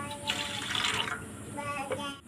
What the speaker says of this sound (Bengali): পাউডার দুধ গুলিয়ে নিয়েছি, তার ভিতরে কেওড়ার জল দিয়ে দিচ্ছি